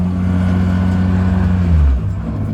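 A 1995 BMW M3 accelerating in first gear with a vibration and rubbing noise from the transmission tunnel, a loud steady engine drone heard from inside that rises and then drops as the revs fall near the end.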